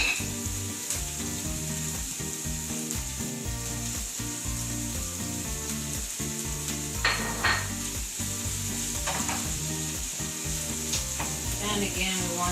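Mushrooms frying in a pan for a vegan lentil flour omelet, giving a steady sizzle under stirring and light scraping, with no talk.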